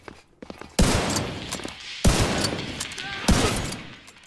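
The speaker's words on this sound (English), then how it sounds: "Failed the first shot, nailed the second and third." Gunfire rings out in the video game The Division 2, with three loud, booming shots spaced about a second apart, each trailing off in a long echoing tail, and light voice sounds before the first.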